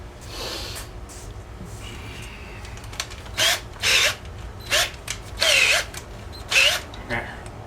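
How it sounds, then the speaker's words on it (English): A small power drill bores a tiny hole in a brass piece of a Yamaha outboard carburetor, close up, in several short whirring bursts with pauses between them. "And drill a little teeny hole."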